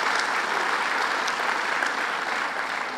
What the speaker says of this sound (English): let's give Mayor McCarthy a big round of applause